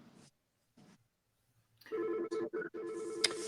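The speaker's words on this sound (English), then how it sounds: "Oh, I've never had a phone call before, and I'm getting phone calls." A landline telephone starts ringing after a quiet moment, its electronic warble loud and close in repeated pulses with brief gaps.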